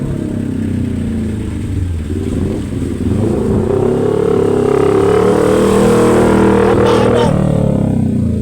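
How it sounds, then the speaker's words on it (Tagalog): Big bike motorcycles passing on a traffic-slowed road in a cool highland area, a steady close engine drone rising into a sustained revving tone midway, then easing off as they go by. "Meron ngayon nasasalubong ng mga big bike."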